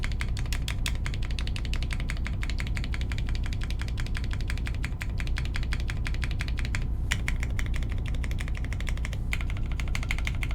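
Rapid, steady typing on a Jane V2 CE mechanical keyboard fitted with GMK keycaps, a dense run of close, crisp clacks filling the whole stretch with no talking.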